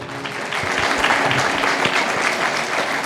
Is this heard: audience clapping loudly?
yes